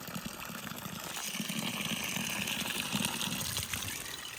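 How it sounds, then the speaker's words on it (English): Cold roadside spring water flowing into a bottle, a steady, soft gushing and trickling stream heard alone at moderate level. "we'd bottle it and see how clear it is when it comes out"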